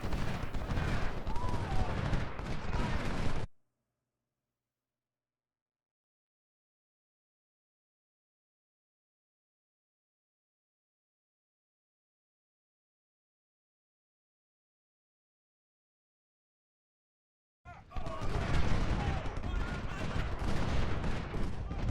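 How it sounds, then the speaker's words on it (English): Dismounted rifle cavalry in a Civil War strategy video game fire rapid volleys. Dense crackling gunfire runs for a few seconds, drops into a long silence, then returns just as busy at the end. "the rifle cav, instead of trying to be clever, should just dismount and rapid fire"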